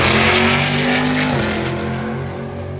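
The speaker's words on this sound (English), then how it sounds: "So the next Camaro up right now, super freaking loud." A loud Chevrolet Camaro roars past at a drag racing event, its engine blaring close and then fading slightly as it moves away, with a pitch shift as it passes.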